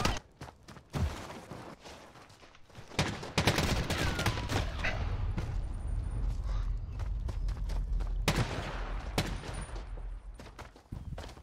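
Gunfire in Call of Duty Modern Warfare during a 2v2 match: scattered loud shots, then sustained rapid bursts and heavy rumbling over several seconds, with a voice faintly under the action.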